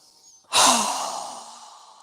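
A single strong exhale through the mouth during yoga breathing, a sudden close breathy rush that fades gradually over about a second and a half.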